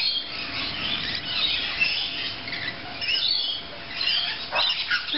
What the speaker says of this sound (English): And then again, the plague of lorikeets.